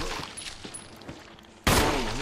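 Gunfire in the video game Resident Evil 1 HD Remake: several faint, muffled shots in a loose rhythm, then one sudden loud blast that echoes and trails off.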